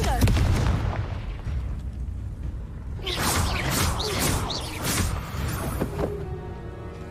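A Confringo explosive spell cast in Hogwarts Legacy bursts into a cluster of sharp booms and crackling pops after a quieter, rumbling start, with a voice speaking faintly underneath.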